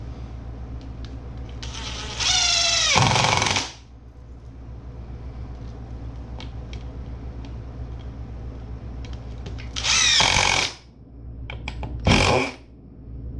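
Power drill driving countersinking screws into wood for live edge speaker stands, three separate whirring bursts of a few seconds each with quiet gaps between, close and loud.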